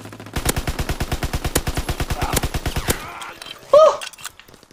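Rapid bursts of automatic gunfire from a World War II shooter, Call of Duty WW2, crackle in a fast, evenly spaced volley for about three seconds, then a short sharp game sound follows.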